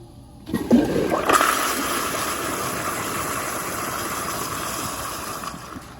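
A 1999 American Standard Madera toilet flushes a gray rag: a sudden loud rush of water that swells quickly, then settles into a steady, sustained roar of draining water close by, with no talking.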